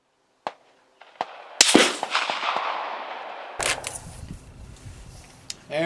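Rifle shots ring out at an outdoor shooting range: a few sharp, loud cracks with a longer echoing blast and rolling decay, then more reports and a final shot near the end.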